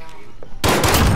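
A cruise missile launching in Call of Duty: Modern Warfare, a sudden loud roaring blast that bursts in after a moment of quiet and holds for the rest of the moment.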